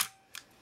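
A Nikon FE film camera shutter fires at 1/500th of a second, giving one close, crisp mechanical click after a faint earlier tick, then quiet.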